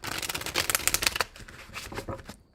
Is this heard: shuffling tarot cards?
yes